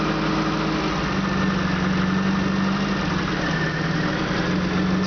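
An Opel GT engine idles steadily and loudly at close range during a vacuum leak test, with a constant rough drone and faint mechanical knocking and no pauses.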